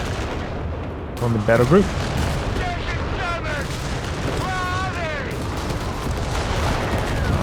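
Air burst artillery shells dropping in the video game Company of Heroes 3, a steady stream of rumbling booms and gunfire across a battlefield with someone talking over it throughout.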